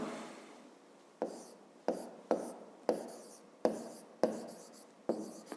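Handwriting on paper during a fifth-grade maths exercise: a close, quiet series of about eight distinct pen strokes, each a short scratchy burst fading away, spaced roughly every half to one second with near silence between them.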